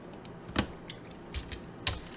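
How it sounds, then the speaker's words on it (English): A command is typed on a computer keyboard while setting up a GitLab server: a short run of light, sparse key clicks, near and quiet, with a couple of firmer taps and no talking. "So make sure you type this thing right."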